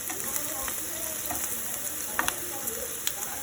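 Onion and garlic fry in a pan with a soft continuous sizzle and crackle, close but fairly quiet, punctuated by faint scraping stirs and small clicks of a utensil.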